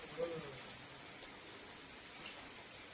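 Heavy rain falls in a steady, even hiss that runs throughout, heard faintly from a distance with a few soft drops standing out.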